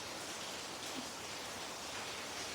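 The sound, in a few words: rain during a storm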